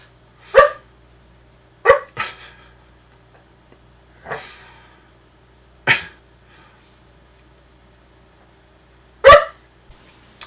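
A sleeping puppy lets out six short, muffled yips and woofs while dreaming, spaced irregularly with quiet pauses between, close by in a still room.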